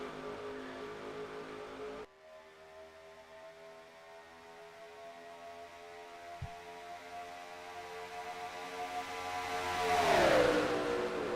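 NASCAR-style race trucks roaring at Daytona International Speedway on a restart, engines droning steadily and climbing in pitch, swelling to a loud close pass near the end.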